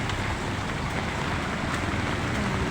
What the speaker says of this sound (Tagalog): Talagang umuulan guys.